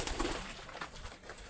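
Pet pigeons in a pigeon loft give soft, low coos and faint rustling close by, a few short murmuring calls over a quiet background.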